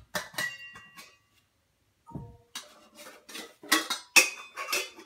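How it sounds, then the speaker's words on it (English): Metal pots from a survival cooking kit being handled, with close clanks, clinks and scraping rattles in irregular bursts and a brief pause. "That's the second cooking pot or container."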